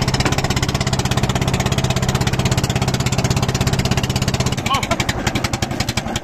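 A boat engine chugs loudly in a fast, steady putter, its rhythm shifting slightly near the end.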